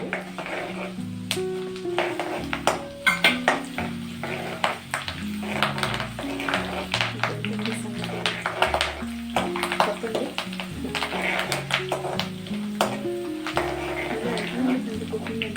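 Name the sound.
dried red chillies and curry leaves sizzling in hot oil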